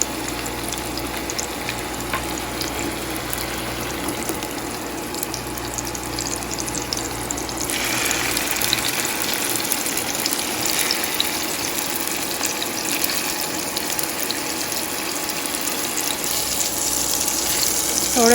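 Oil sizzling steadily as gola kababs fry in a pan, a loud continuous hiss that swells partway through and stays dense to the end.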